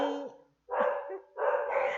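Two bursts of dog barking, loud and close, separated by brief pauses, with several barks run together in each burst.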